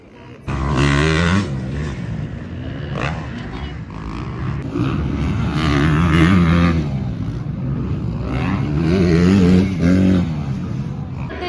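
Motorcycles race around a stunt track in Raipur, engines roaring and revving loudly and continuously, rising and falling as bikes pass, with a crowd's voices and talk mixed underneath.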